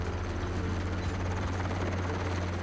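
A helicopter working over an Australian cattle ranch, its rotor and engine droning in a loud, steady, close wash with a continuous low throb and no voices.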